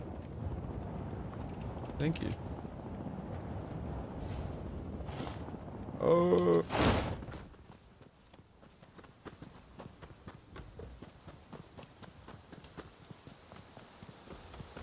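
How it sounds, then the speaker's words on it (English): Horse hooves clip-clopping in a video game, a run of rhythmic hoofbeats under game sounds and chatting voices, with a louder burst midway before quieter scattered steps. "Pretty sick horse."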